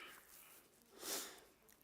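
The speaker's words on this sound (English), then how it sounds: "Excuse me while I sniffle into the mic more." A single short sniffle close to the microphone, breathy and brief, with quiet room tone before and after.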